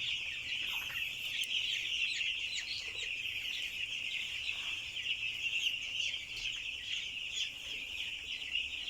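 Five-day-old broiler chicks on a farm cheep and cluck continuously in a dense, high-pitched chorus, a steady flock sound at moderate distance with no talking.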